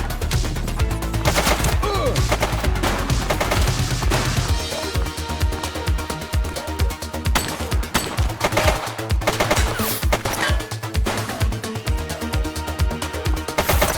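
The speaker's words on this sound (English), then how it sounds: "He's shooting!" Gunfire from a shooter in the video game The Precinct rattles in dense, rapid bursts of automatic fire over a busy game soundscape. The shots are loud and continuous throughout.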